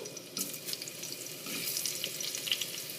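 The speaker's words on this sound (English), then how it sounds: "I'm going to start my potatoes. They're going to make some noise. See? Sizzle." A steady hissing sizzle of potatoes frying in hot oil, with crackles and pops rising in intensity, no talking.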